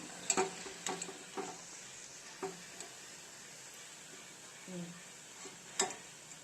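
Small rice and potato bondas deep-frying in oil, a soft crackling sizzle punctuated by sharp ticks and scrapes of a utensil against the pan, fairly quiet and close.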